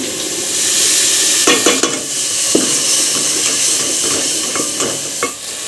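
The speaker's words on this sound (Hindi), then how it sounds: "मिर्ची मैंने भून लिया, मैं टमाटर मिर्चों का पेस्ट डालूंगी।" Tomato and chilli paste sizzles loudly in a hot pan, a steady frying hiss broken by a few spoon scrapes and clinks as it is stirred.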